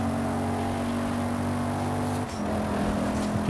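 A race car in Forza Horizon 5's winter festival weekly challenge drones with a steady, harmonic engine tone, briefly dipping around a gear change or turn before settling back into a sustained roar.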